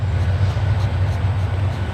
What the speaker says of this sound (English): Like a train.